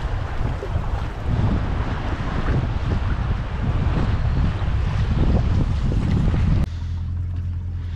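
Strong wind roars across the microphone while waves slap and churn against a moving bass fishing boat on Lake Murray, loud and continuous, with no voices.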